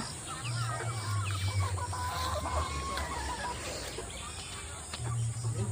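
Chickens clucking and squawking close by as they are herded one at a time into a coop at a rural home, with steady chatter over a continuous background hum.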